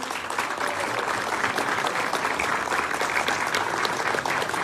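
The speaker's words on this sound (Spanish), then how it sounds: "yo les quiero pedir un aplauso para ella" Steady, dense applause from an audience at a municipal public event, loud and continuous throughout with no pauses.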